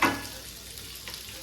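Black pepper and spices sautéing in a hot pan, a close, steady sizzle with a brief stirring scrape at the start, no voices.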